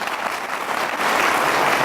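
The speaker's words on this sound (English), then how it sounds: "I'd like to give her a round of applause." A meeting crowd breaks into a brief, full round of applause for the caterer at an annual meeting, steady dense clapping that swells slightly midway.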